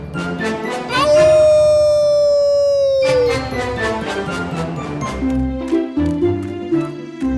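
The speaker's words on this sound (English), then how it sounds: "the wolf howled all night long and asked for help" A long, rising-then-falling wail like a wolf's howl sounds over a musical background, followed by a steady tune of sustained tones.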